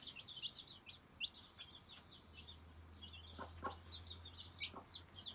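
Hens and young chicks cluck and peep continuously at low volume, soft high chirps scattered over a steady murmur of clucking with a faint low hum beneath.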